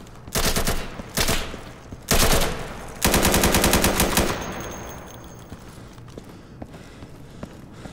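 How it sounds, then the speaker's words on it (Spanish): Bursts of automatic gunfire in the shooter game Insurgency: several loud, rapid volleys of cracking shots separated by short gaps, the last and longest burst fading into a quieter tail with scattered distant pops. "Alguien me estaba disparando"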